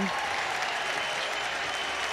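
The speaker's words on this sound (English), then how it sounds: "He gets some cheers from the crowd nonetheless as Gungba heads to the line." Crowd cheering and applause fill an arena during a Duke Blue Devils at NC State Wolfpack men's basketball game, a steady, loud wash of noise from the stands as a player heads to the free-throw line, with a commentator talking over it.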